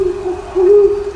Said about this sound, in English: I shook my head at the sound of the owl's hoot.